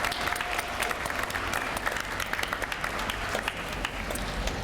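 A room of ninth-grade students and guests applauds chaperones and teachers at a Pittsburgh career expo press conference, with dense, steady clapping that holds evenly at moderate distance throughout.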